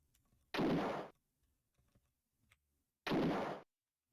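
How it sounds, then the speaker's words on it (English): Two gunshots fired back in the game Alone in the Dark 3, each a loud, sharp burst about half a second long, spaced a few seconds apart over near silence. "It looks like I'm getting shot from inside, so how about I fire back?"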